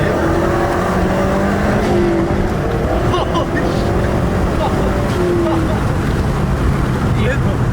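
A Mazdaspeed 3 engine building boost under wide-open throttle heard from inside the car, a loud, steady droning roar with rising tones and faint whooshing throughout.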